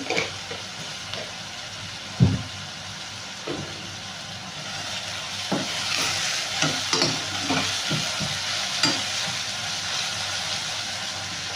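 Onions with salt fry in a pan, a continuous broad sizzle close by with intermittent stirring scrapes and soft clanks against the pan throughout.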